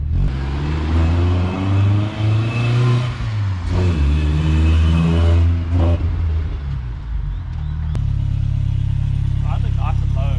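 A Toyota AE86 track car's engine idles low and rough up close, then is blipped in several quick revs that climb and fall before it settles back to a loud, steady idle, with voices talking over it.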